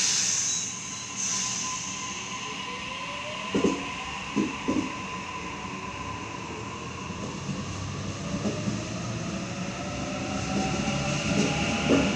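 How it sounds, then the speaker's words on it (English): Commuter train pulling into Killara station on Sydney's suburban rail line, a steady rumble with rising and falling wheel squeal and a few clunks from the carriages as it rolls along the platform. "The next train to arrive on Platform 1 goes to Schofields"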